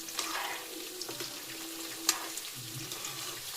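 Chicken pakoda mixture stirred in hot oil as it fries, a steady sizzle under occasional light scraping and clinks, with no one talking.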